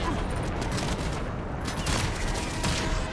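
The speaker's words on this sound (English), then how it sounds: "I'm getting shot from everywhere." Dense, continuous gunfire from the video game Warframe, a busy rattling fusillade of overlapping shots and bursts that fills the whole stretch at a steady loud level, with a voice faintly present underneath.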